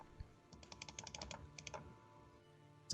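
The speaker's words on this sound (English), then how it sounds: "Somebody's clicking rapidly." Computer keyboard keys click rapidly in quick bursts, close and fairly quiet, pausing briefly before a sharp louder knock at the end.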